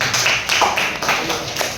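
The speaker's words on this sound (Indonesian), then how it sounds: "Berikan tepuk tangan buat dia." A church congregation claps for a guest during a service, producing a steady, fairly loud patter of many hands that holds evenly throughout with occasional sharper claps on top.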